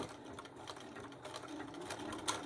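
A sewing machine stitches appliqué on a wall hanging, a quiet, steady mechanical whirring with faint rhythmic ticking.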